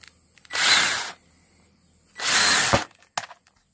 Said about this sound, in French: Et je finis mon perçage